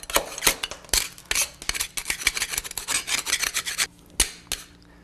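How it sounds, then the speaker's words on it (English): Excess sealing wax being scraped off molds with a metal tool, rapid rasping strokes in bursts with short pauses, close and loud with no talk. "Then I come back and take the excess off of my molds."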